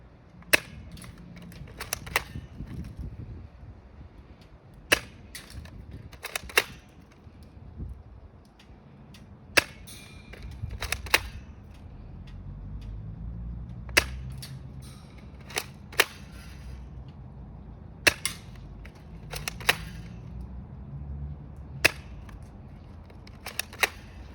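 Toy gun firing heavier plastic balls, a series of sharp isolated snapping shots spaced a few seconds apart, fairly faint over low background rumble and handling noise.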